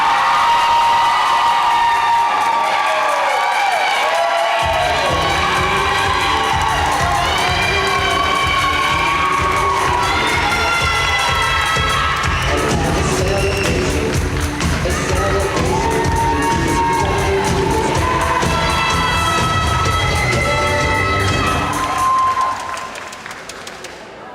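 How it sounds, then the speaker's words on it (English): A graduation audience at a high school arts academy commencement in Lower Manhattan cheers, whoops and applauds loudly and continuously, with children shouting amid the dense crowd noise before it fades at the end. "One more round of applause for the class of 2020."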